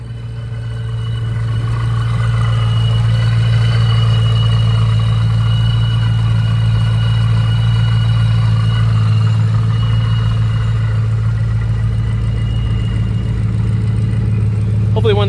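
A Shelby Super Snake engine idles through a Borla S-type muffler with a deep, steady exhaust burble, loud and close, holding an even tone throughout with faint talk in the background.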